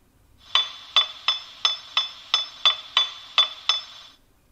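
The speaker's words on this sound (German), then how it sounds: "Zuerst hämmern." A Märklin H0 model railway sound effect of metallic hammer strikes rings out about ten times in a steady, evenly spaced rhythm, crisp and close against a quiet background.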